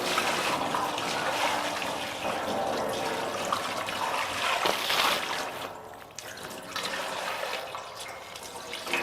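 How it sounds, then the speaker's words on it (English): Water pours and splashes steadily into a metal pan used for boiling maple sap, rinsing it out on a farm, a continuous close rushing with a brief surge midway and no talk. "I'm going to put some water in it and rinse it out first"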